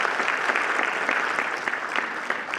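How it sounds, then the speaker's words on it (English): An audience applauds at a county swearing-in ceremony for elected officials, a dense steady clapping that holds throughout at close range. "Let's give Jean a round of applause."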